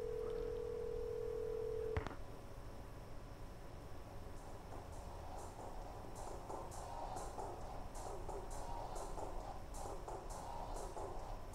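Telephone in the Twilight Syndrome video game: a steady dial tone that cuts off after about two seconds, followed by a soft rapid series of faint clicking beeps over low background hiss.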